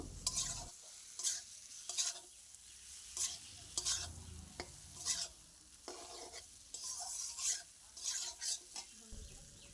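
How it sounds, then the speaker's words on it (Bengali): Potatoes and spices are stir-fried in a pan for an egg curry, with a soft continuous sizzle under repeated scraping stirs that come in rhythmic bursts, fairly quiet and close, with nobody talking. "এবারে আলু সমেত মশলাগুলো আবারও ভালোভাবে কষিয়ে নেব"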